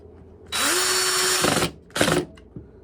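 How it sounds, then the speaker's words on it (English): Power drill driving a screw into a wooden cutting and charcuterie board, a loud close whine rising in pitch and holding for about a second, then a shorter second burst as the bit skips. "I'll take the power drill, and I want it torqued down to where it will get the proper torque on that"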